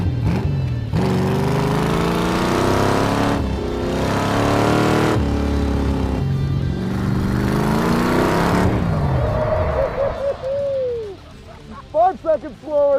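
A go-kart built from a 1985 C4 Corvette drives on a track, its engine loud and close with rising and falling revs in surges through gear changes, then a background voice as it fades off.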